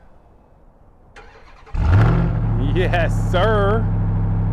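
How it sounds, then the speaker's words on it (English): A 2021 RAM TRX pickup truck's engine cold starts after a faint click, catching with a loud rising roar that settles into a steady rumbling idle, while a person speaks briefly over it. "this is kind of a cold start, so this is what it sounds like when you first get up in the morning"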